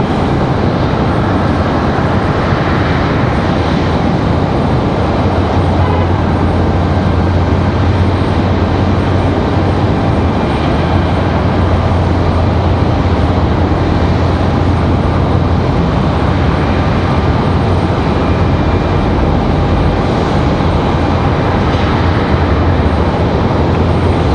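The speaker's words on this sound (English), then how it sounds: "Southwest 1901, 737 MAX 8, spinning at 55 minutes in the air, coming from Atlanta" Southwest Boeing 737 MAX 8 airliner arriving at Raleigh-Durham International Airport, a steady loud engine roar with a low drone that holds for the whole span without a break.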